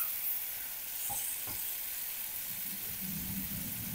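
Tomato thokku frying on low heat gives a soft, continuous sizzle, with a couple of brief stirring knocks and a low scraping near the end.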